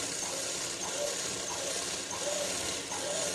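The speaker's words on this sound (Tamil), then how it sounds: "இப்போ இந்த வளைவு மேலேயே நம்ம தையல் ஓட்டலாம்" A sewing machine runs stitches along the curved seam of a chudidar pant, making a faint, steady mechanical whir with light rhythmic ticking and no voices.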